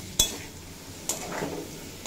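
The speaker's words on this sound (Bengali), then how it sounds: "দিয়ে খুব ভালোভাবে ভেজে কষিয়ে নেব।" Spices with Kashmiri chilli powder fry in a pan for a papaya dish, a faint low sizzle broken by three sharp clinks of a spatula against the pan.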